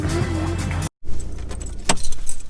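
A tuned Audi A3 2.0 TDI diesel car revs hard in first gear, a loud, dense engine roar that cuts out abruptly for a moment, then returns as quieter engine and cabin noise.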